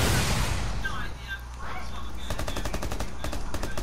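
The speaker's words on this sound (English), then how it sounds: "I always shoot that window first." Gunfire in Rainbow Six Siege sounds first as a loud blast, then after a short pause as a rapid burst of about a dozen automatic shots fired at a window, with a voice talking over it.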